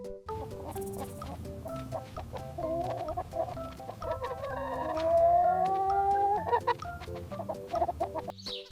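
Chickens cluck and murmur in a yard, with several birds calling in overlapping bursts, including a longer drawn-out call toward the middle. The sound is close and moderately loud.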